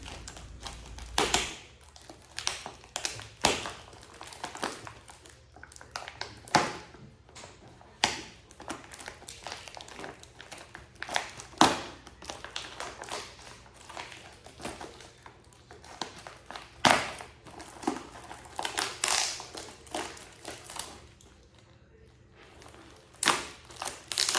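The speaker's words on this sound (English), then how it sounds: "Let's go open it. Comes in this plastic bag, totally protected." Plastic bag packaging around a fluffy 5x5 bedroom rug is handled and opened, giving a run of soft, irregular crinkles and taps at close range with no talking.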